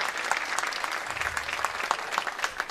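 An audience claps at an award ceremony as a prestige award winner is invited to the stage, a dense, steady round of applause from a room full of people.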